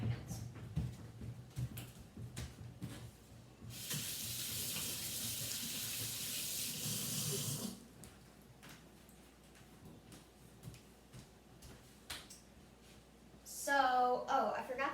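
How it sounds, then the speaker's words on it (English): Tap water runs into a kitchen sink for about four seconds while hands are washed mid-way through frosting preparation, a steady close hiss, with someone talking before and after and clattering at the end. "I'm just gonna wash my hands"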